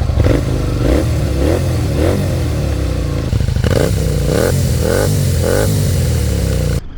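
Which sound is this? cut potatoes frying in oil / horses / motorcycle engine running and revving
motorcycle engine running and revving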